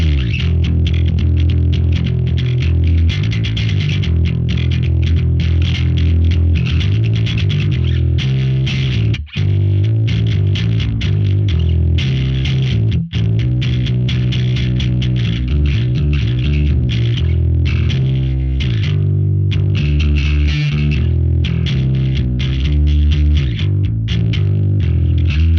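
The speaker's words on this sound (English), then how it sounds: "Clean blend with that bass distortion is really nice" Bass guitar runs through a Darkglass-style distortion model with a clean signal blended in, a thick, gritty, continuous riff with heavy low end and fuzzy upper buzz, played alone with two brief drops.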